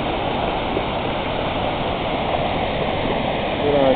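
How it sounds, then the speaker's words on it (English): Minnehaha Falls pours continuously, steady rushing water forming a broad dense roar close by, with a faint voice briefly near the end. "see how fast the water's going over the"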